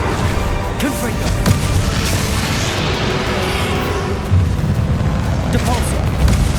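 The Confringo fire blast spell explodes in the Hogwarts Legacy video game, a dense roaring boom over loud continuous battle noise, with a voice shouting over it.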